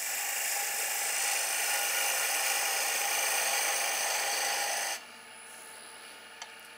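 A skew chisel cutting wood on a lathe while turning a cheese serving board, a bright, steady high scraping hiss that runs evenly for about five seconds, then stops abruptly, leaving a faint hum and one small tick.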